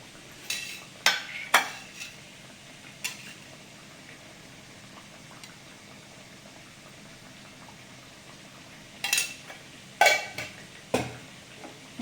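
Puris deep-frying in oil give a faint, steady bubbling hiss, broken by a few scattered clinks and scrapes of a utensil against the pan.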